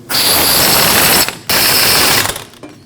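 A ratchet snugs the wheel bearing bolts on a 2014-2023 Jeep Cherokee rear hub in two loud, rapid clicking bursts, separated by a short pause, close up.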